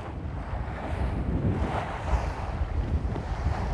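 Steady wind blows across the microphone on a sailboat racing in a regatta in roughly 12-knot breeze, a continuous loud roar with gusty swells, water and hull noise mixed underneath, no voices.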